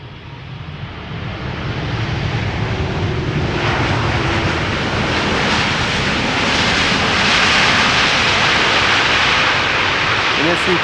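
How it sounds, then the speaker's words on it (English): An American Airlines passenger jet arrives from Philadelphia onto Schiphol's Polderbaan runway, its engines a loud, steady roar of broadband rumble and hiss that holds at full strength throughout, with no one speaking. "This is American Airlines Flight 204 arriving from Philadelphia."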